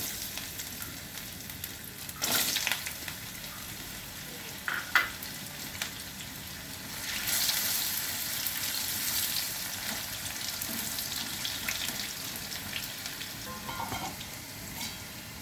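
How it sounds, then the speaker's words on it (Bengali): Potatoes frying in hot oil seasoned with garam masala, bay leaves and dried red chilies in a home kitchen, a steady close sizzle running throughout with a few sharper spatters and clinks. "আমি আলু কটা ভেজে নেব।"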